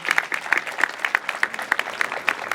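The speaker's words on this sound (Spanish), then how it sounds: "Pido un aplauso para el profesor Grover Pango Vildoso" A small audience at an education forum applauds a former education minister, with distinct, fairly regular claps of moderate loudness throughout.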